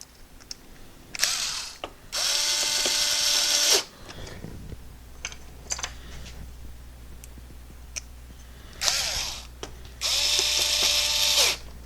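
A Torx screw is backed out of a Magnavox CD changer with a ratcheting screwdriver, heard as two long bursts of rapid, close clicking separated by quieter handling noises and small taps.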